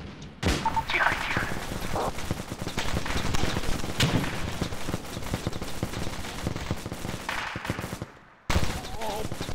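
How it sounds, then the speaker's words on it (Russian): Dense, continuous gunfire from the Arma 2 military shooter, with rapid bursts and single shots rattling almost nonstop and a brief lull near the end before firing resumes; a voice comes through faintly under the shooting. "По нам стреляет, козак"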